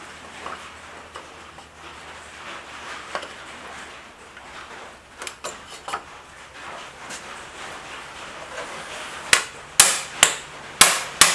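Loosening the pressure plate bolts on a Yamaha Commando motorcycle gives sparse, faint metallic ticks at first, then a run of sharp, loud tool knocks near the end. No one speaks.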